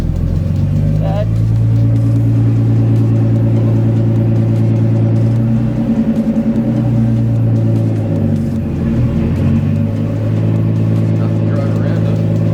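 A Nissan Skyline engine droning loudly from inside the car as it is driven, its rumble rising and falling through gear changes, with a voice talking over it.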